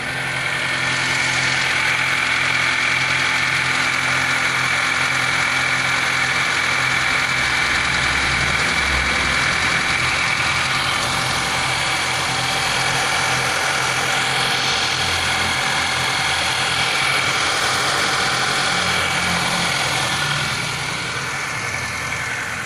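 A car engine idles steadily after a new belt has been fitted, running as a close, continuous mechanical drone with a faint whine layered over the low hum, with no talking.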